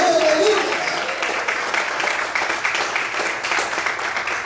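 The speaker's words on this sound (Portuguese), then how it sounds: "Quantos podem aplaudir e exaltar o Senhor esta manhã?" A church congregation claps steadily throughout, a dense wash of applause with a preacher's voice briefly audible over it at the start.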